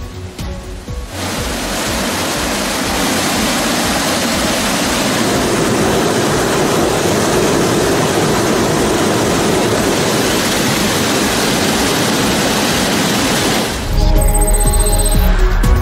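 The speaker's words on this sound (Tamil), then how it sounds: "குற்றாலம் மெயின் அருவி, 5 அருவி, பழைய குற்றாலம், புலி அருவியில் வெள்ளம் பெருக்கெடுத்து ஓடுகிறது." Flooded waterfalls at Courtallam in the Western Ghats roar steadily after heavy rain, a dense, loud, continuous rush of falling water that shifts abruptly near the end.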